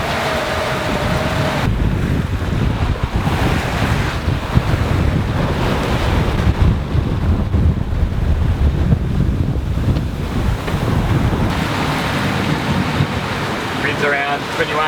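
Strong wind roars across the microphone while waves rush and surge continuously around a sailboat running downwind at sea in 21 to 23 knot winds, loud and unbroken for the whole stretch.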